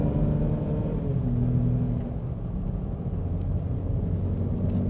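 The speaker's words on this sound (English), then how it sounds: "enjoy those last driving bits in the sunlight with the Jaguar F-PACE S, some V6 sound" A 2017 Jaguar F-PACE S with a 380 hp V6 drives along, a deep, steady engine rumble with road noise and a slight change in pitch as it accelerates, heard from inside the car.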